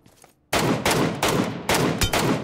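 Rapid bursts of gunfire in the mobile battle royale game PUBG Mobile, loud and close, starting after a brief quiet moment and continuing in several dense volleys with short gaps between them.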